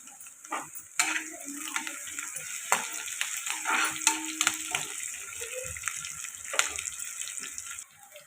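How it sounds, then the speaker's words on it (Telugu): Onions and curry leaves fry in a pan, a steady soft sizzle running throughout, broken by occasional clinks and scrapes of stirring. "ఇలా ఉల్లిపాయలు వేగుతున్నాయి కదండి"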